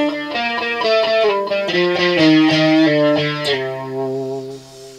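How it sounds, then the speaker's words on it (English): An electric guitar plays a sequence of chords through a 3D chorus effect with noise gate on, lush and shimmering, notes ringing out before fading into a held final chord. "I can put some chorus in, 3D chorus."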